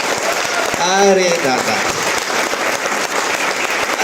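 An audience claps in sustained, dense applause at a talk or gathering, while someone speaks over the clapping near the start.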